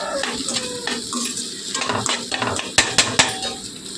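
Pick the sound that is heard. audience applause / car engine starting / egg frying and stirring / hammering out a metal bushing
egg frying and stirring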